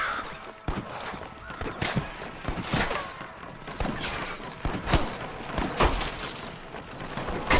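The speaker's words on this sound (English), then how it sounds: "I can hear more gunshots" Rapid bursts of gunfire in the video game Red Dead Redemption crackle in irregular volleys, sharp and fairly close, with scattered single shots between them and faint voices underneath.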